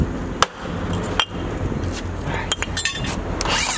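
A hammer strikes a few times during eviction cleanup work, giving sharp, isolated metallic clinks and whacks over a noisy background.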